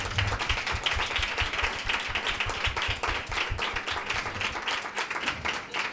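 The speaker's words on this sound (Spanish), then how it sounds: "le damos un fuerte aplauso a Mariana Carvajal" Loud, energetic applause from a live audience at a talk show welcoming a guest, dense rhythmic clapping filling the whole stretch at close range.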